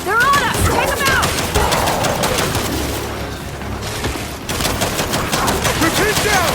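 Turret gunfire in the video game Gears of War 5 hammers out dense, rapid automatic bursts, loud and near, with a brief lull midway before the firing resumes.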